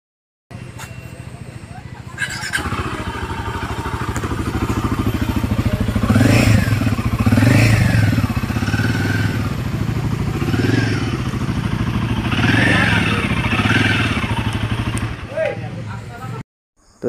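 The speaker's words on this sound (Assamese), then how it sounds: "এতিয়া আপোনালোকক শুনাই দিওঁ ইয়াৰ ইঞ্জিনৰ মাতটো" A Royal Enfield Himalayan 450 motorcycle engine runs steadily close by, with a throaty low rumble and rhythmic swells of revving throughout, cutting off abruptly at the end.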